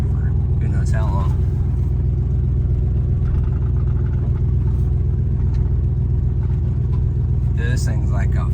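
An old GMC Caballero that sat for over 20 years drives along with a loud, steady low engine rumble and road noise, and a voice talks briefly over it.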